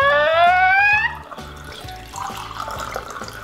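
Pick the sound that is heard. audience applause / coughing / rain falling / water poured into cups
water poured into cups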